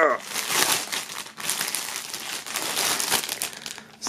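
Items from a 1998 box set, such as a shirt, album and bandana, being unwrapped from plastic foil, with close, continuous crinkling and rustling throughout. Someone speaks German over it.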